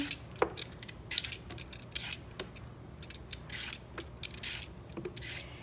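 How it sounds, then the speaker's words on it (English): A handheld vegetable peeler scrapes along raw parsnips in quick, repeated rasping strokes, close and fairly quiet, with small taps in between. "So we're just going to keep peeling."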